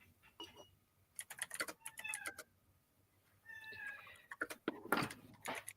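A cat meows several times in short, rising calls, mixed with clicking and tapping noises in between, fairly quiet overall.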